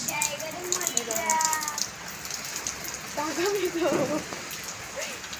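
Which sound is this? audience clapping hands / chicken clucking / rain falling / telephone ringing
rain falling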